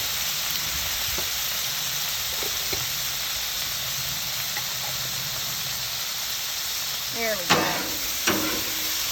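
Artichokes sizzle on a hot Blackstone griddle, a steady close frying hiss, with a few clatters of a utensil and a brief spoken remark at the start.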